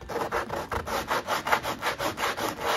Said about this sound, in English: take a sanding block, and we're just going to sand